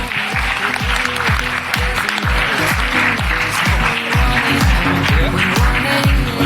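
Audience applauding at a security conference prize ceremony, a steady dense wash of clapping lasting throughout, fairly loud and close, with rhythmic repeated low swooping tones underneath.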